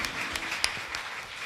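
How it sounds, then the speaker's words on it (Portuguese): Applause in a church during a Palm Sunday service, a soft, steady wash of many hands with a couple of sharper claps, heard at a moderate distance and brief. "aplauda esse Deus maravilhoso"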